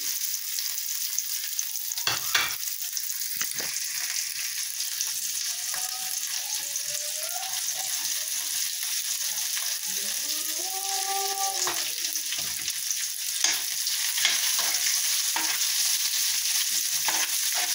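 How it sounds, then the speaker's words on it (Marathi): Chopped onion stir-fried in a pan for a matki usal, giving a steady broad sizzle with occasional scraping stirs and clinks, close and continuous, with no talking. "आता चांगला परतून घ्यायचा।"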